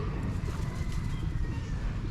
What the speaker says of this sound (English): so loads of pigeons here.